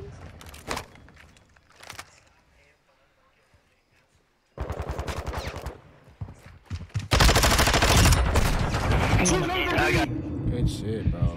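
Bursts of automatic gunfire from a Call of Duty Search and Destroy match crackle loudly in separate volleys, separated by quieter stretches, with players talking over the action.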